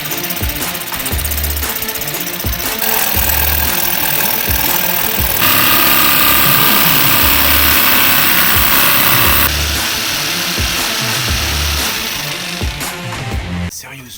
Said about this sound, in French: Je vais essayer avec la scie sauteuse et la scie acier qui a des toutes petites dents.